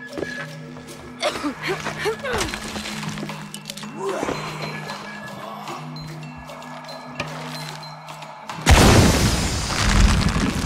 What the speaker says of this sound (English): Create an explosion.